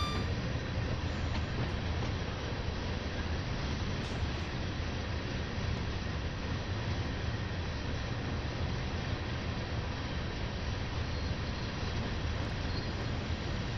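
A very long Class 90 freight train runs from Carlisle to Wembley in Train Simulator, giving a continuous loud rumbling roar with steady rail noise that does not break for the whole stretch.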